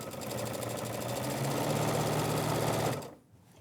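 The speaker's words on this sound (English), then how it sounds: "I go ahead and sew my 1/4 inch seam allowance all the way down" A sewing machine runs a quarter-inch seam along quilt binding, a fast, even mechanical whirr with a rapid stitching pulse, held steady close by before cutting off abruptly near the end.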